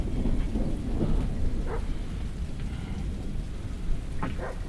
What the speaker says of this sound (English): Big thunderstorm over here.